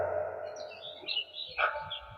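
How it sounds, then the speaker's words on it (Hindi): Birds chirp and call at a bird festival in the Tal Chhapar blackbuck sanctuary, a scattered chorus of bright tweets over steady low outdoor rumble, moderately near. "कितना सुंदर कलरव सुनने को मिलता है पक्षियों का यहाँ पर।"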